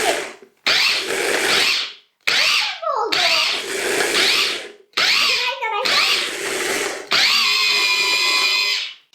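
A kitchen blender mixes milk, strawberries, banana and other solid ingredients for homemade ice cream, running in several loud whirring bursts separated by brief pauses, the pitch shifting as the mix churns, close to the microphone.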